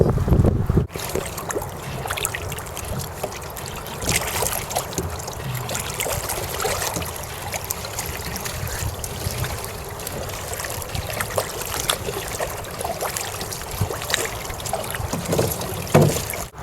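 A small boat sculled with a single oar worked over the stern, on open water; soft sloshing and trickling water strokes under steady wind buffeting on the microphone, with a few knocks.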